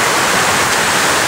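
Waterfall at Los Baños, Laguna, roaring as a loud, steady, close-up rush of falling water with no voices.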